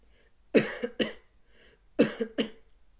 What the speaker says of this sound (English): if you hear me coughing